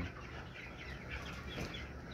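Twenty-three-day-old broiler chickens in a poultry shed give dense, continuous soft clucking and chirping from many birds at once, a quiet, even murmur.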